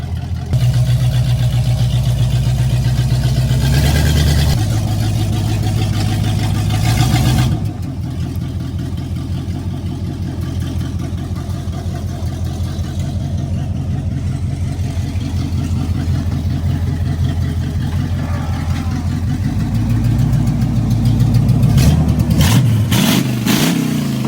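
A budget mud truck engine idles and revs loudly as it drives up onto a trailer under its own power, with a steady rumble, surging throttle bursts near the start and the end, and no talk over it.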